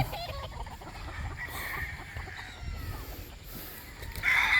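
Chickens cluck on a farm in a steady, close, low murmur of clucking, with a sharper call rising near the end over background noise.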